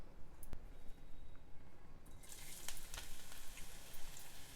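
Vegetable peels and ridge gourd pieces sizzle in hot oil, a close, steady crackling fry that brightens and grows busier partway through.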